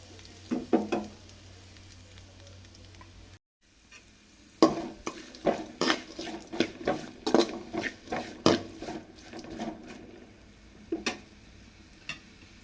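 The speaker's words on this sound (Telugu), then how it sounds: "ఇప్పుడు ఉల్లిగడ్డలు, క్యారెట్, దోసకాయలు వేసి వేయించుకోవాలి." Onions, carrot and cucumber fry in a pan for a quick sago upma, with a soft steady sizzle under repeated sharp clinks and scrapes of a stirring spoon against the pan.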